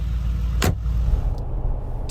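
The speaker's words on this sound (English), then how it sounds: "You feel the history of cars with every door slam in the G-Wagon" A Mercedes-AMG G63 G-Wagon door slammed shut once, a single solid thud heard over a low steady rumble, close by, with no talking.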